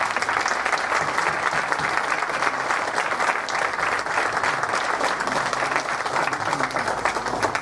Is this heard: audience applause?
yes